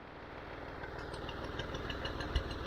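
A Massey Ferguson MF50 tractor engine idles on a farm with a steady low rumbling chug, moderately close and without speech.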